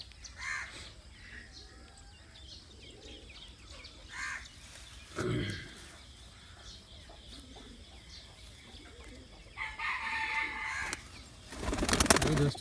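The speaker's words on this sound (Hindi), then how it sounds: "बिल्कुल बरीक नूर के कबूतर है सारे" Rampuri pigeons give soft, repeated coos and throaty murmurs at moderate distance. Scattered clucks, a sharp clatter and a burst of rustling noise break in near the end.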